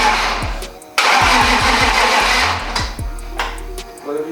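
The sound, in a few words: BMW E36 race car engine starting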